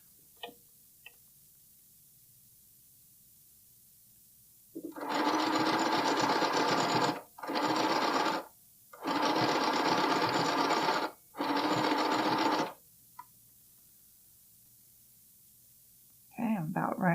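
A sewing machine stitches elastic onto bralette fabric in four loud, close bursts of rapid whirring, separated by brief pauses, with light handling clicks around them.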